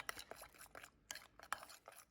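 Gelatin being stirred quickly into about three ounces of water for a Jello cheesecake, with rapid clinking and scraping of a utensil against a bowl in quick irregular strokes, quiet and close.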